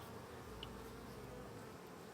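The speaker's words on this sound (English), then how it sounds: "Some bees hovering in front of the hive like they're not familiar with it at all." Honeybees hover in front of a nuc hive, a faint, steady, close buzz with one wingbeat drone passing briefly nearer.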